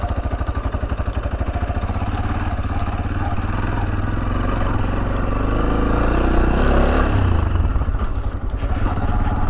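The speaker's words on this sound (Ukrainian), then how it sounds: "Треба ще трошки повідчувати мотоцикл" A Tekken 250 motorcycle engine drones steadily at close range while riding through the streets of Lviv, Ukraine, a throbbing low rumble with wind and road noise throughout.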